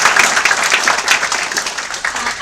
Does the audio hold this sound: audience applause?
yes